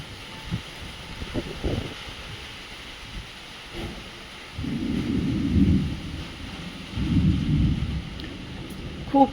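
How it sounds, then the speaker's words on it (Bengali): Thunder rolls in during very heavy rain, with two long low rumbles in the second half rising over a steady background hiss of downpour, plus a few faint knocks early on. "খুব জোর বৃষ্টি, সাংঘাতিক বৃষ্টি পড়ছে, একদম প্রচন্ড।"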